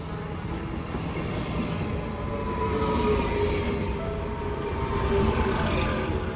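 Loud, continuous rumble of a train to Zurich rolling into a station close by, steady roar with faint metallic squeal tones running through it.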